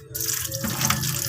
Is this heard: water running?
yes